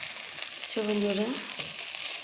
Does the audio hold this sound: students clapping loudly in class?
no